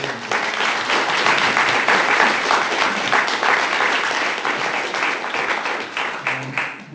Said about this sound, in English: Let's give a round of applause to Doreen and to Bo.